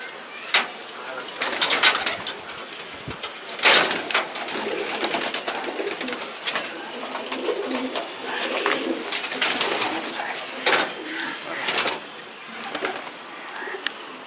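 Domestic home-bred pigeons coo steadily in a loft, several birds calling near and continuously, with a voice speaking now and then underneath.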